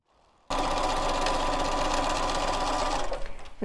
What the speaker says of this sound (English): I'm going to go ahead and just sew both of these strips together